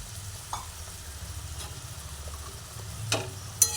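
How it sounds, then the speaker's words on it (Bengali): Fried pointed gourd pieces are stirred through a salted gravy in a pan, with a few soft scrapes and a sharper clank near the end over a quiet simmer and low steady hum. "এভাবে ভালো করে নাড়াচাড়া করে নিই"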